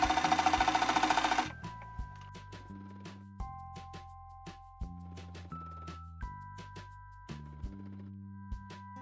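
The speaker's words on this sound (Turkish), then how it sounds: "şimdi tekrar kıvırıp dikeceğim" A sewing machine stitching along a folded skirt hem, starting with a fast continuous whirring run, then slowing into a series of separate, regular mechanical stitch clunks, close and clear with no talk.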